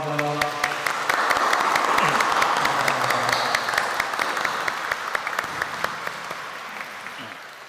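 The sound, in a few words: applause welcoming church members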